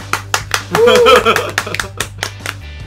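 A few people clap in a Korean radio studio while welcoming a guest, giving scattered irregular claps close to the microphone, with someone briefly cheering or talking over them and a low steady hum underneath.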